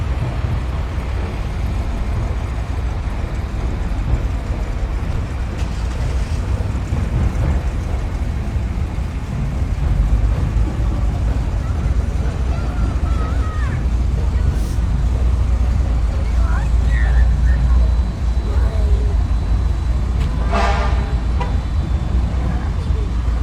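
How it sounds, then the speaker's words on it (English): Classic cars roll past in a Christmas parade run by the Jackson County Gear Grinders, a steady low rumble of engines and road noise, with a voice talking over it now and then. "And coming up next, we got some classic cars."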